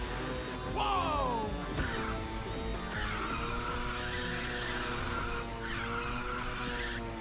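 Tyres squeal in long, wavering screeches as a car drifts through corners in Ridge Racer 6, riding over a steady engine roar and game music, with repeated skids rising and falling.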